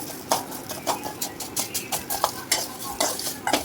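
Green chilies and onion are sautéed in a pan for a capsicum chutney. A spoon scrapes the pan in a steady, rhythmic stir over a soft sizzle, close and fairly quiet, with no talking.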